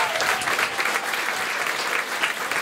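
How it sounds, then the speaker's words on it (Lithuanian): A studio audience at a roast battle comedy show claps in steady, dense applause for a couple of seconds, fairly close and with no voices on top. "plojimai jiems dar kartelį"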